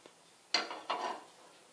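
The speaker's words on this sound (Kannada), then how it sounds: "ಈಗ ನಾನು ಒಂದು ಪಾತ್ರೆ ಇಟ್ಕೋತೀನಿ ನೋಡ್ರಿ" In a home kitchen, a cooking pot is set down with a couple of short metallic clanks close by, the second followed by a faint rattle, amid otherwise quiet surroundings.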